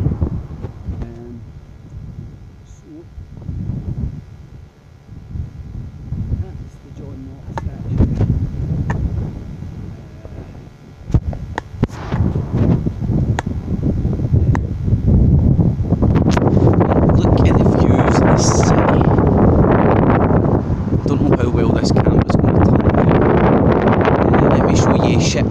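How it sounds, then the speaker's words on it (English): Strong gusts buffet the microphone outdoors on a hilltop at a Glasgow cemetery, loud rumbling wind noise that swells and grows heavier toward the end, with someone talking intermittently underneath. "I know it's windy and stuff"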